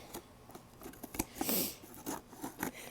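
Packing tape on a cardboard shipping box being cut, heard as a run of sharp snips and crackling rips bunched around the middle, close and fairly quiet with no talk.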